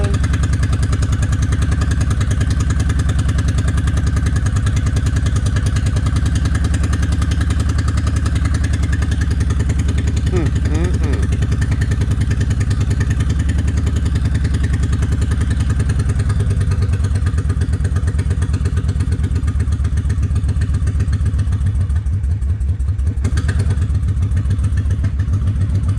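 A Honda 750 Ace motorcycle engine runs on one cylinder, a loud, close, continuous uneven thumping idle with rough clattering pulses throughout.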